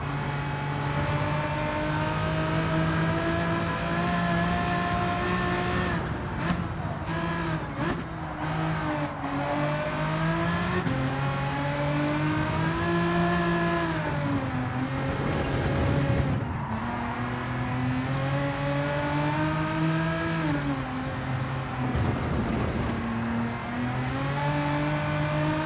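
Tuned 2002 Renault Avantime 3.0 V6 24V pushed to nearly 500 hp in Gran Turismo 7, its engine revving hard and continuously, pitch climbing and dropping through repeated gear changes, loud and alone.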